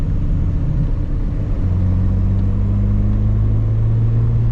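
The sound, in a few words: Datsun 280Z engine accelerating with fuel injection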